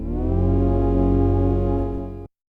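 A sustained, dry grainy synth pad from a Sequential Prophet Rev2, without reverb, holds a steady chord for about two seconds and then cuts off abruptly, with no lingering tail.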